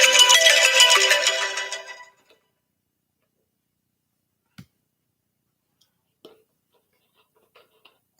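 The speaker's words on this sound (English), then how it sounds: "Telephone rang and it went off." A telephone rings loudly for about two seconds, a dense burst of electronic trilling that cuts off abruptly, leaving near silence with a few faint ticks.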